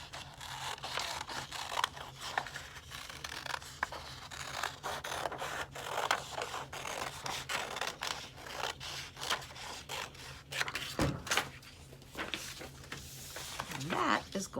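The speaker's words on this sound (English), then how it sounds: "you're going to take your scissors and cut it out." Scissors snip through paper while cutting out an upside-down U-shaped bird from paper, a steady series of close, soft crisp cuts and rustles heard under continuous talking.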